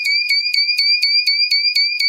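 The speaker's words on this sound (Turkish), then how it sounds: "hem alarmımız çalışıyor" A homemade PIR motion-sensor alarm buzzer beeps in a steady, rapid pulse of about four shrill tones per second, loud and close, with nothing else audible.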